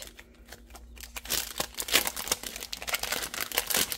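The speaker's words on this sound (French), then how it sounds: "Excusez-moi pour le bruit du papier." Paper crumpling and crinkling close up, starting quiet then growing into busy, irregular rustles that continue steadily.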